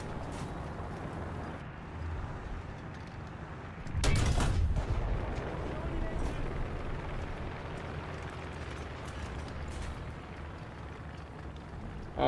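Gunfire in the video game Junk Thunder: a dense, steady rattle of shots with one loud, booming burst about a third of the way in, then continuous firing at a similar level.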